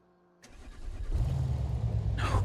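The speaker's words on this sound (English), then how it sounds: "HMT diesel inline 6 exhaust." Engine start in a BeamNG game car fitted with an HMT diesel inline-six exhaust: a starter crank catches into a low, rough diesel rumble that settles into a steady idle.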